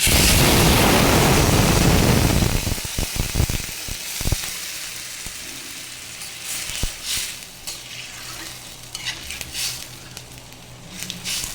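Water hits a hot pan on raised heat while jackfruit cooks with potato, greens and lentils. A loud burst of sizzling lasts about two seconds, then settles into quieter, scattered crackles and bubbling.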